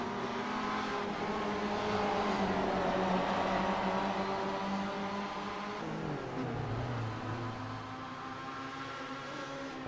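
Touring cars race around Circuit Zolder in the iRacing sim, engines droning and shifting pitch continuously as cars brake and accelerate, a dense steady roar with no voices.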